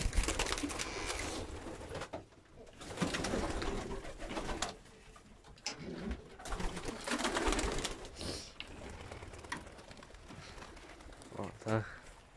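Pigeons cooing in a pigeon loft, with soft, low calls that come and go under someone talking nearby, plus some light clicking and tapping toward the end.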